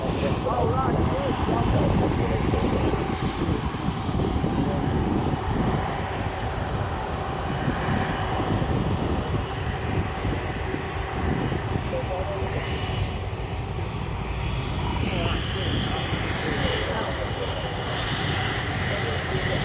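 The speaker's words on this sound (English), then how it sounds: "And the Jet2 Holidays A321 Neo will be lining up for a takeoff to Heraklion this morning" A Jet2 Holidays Airbus A321neo takes off from Manchester Airport bound for Heraklion, its engines making a loud, sustained roar with wind buffeting the microphone, while people talk over it.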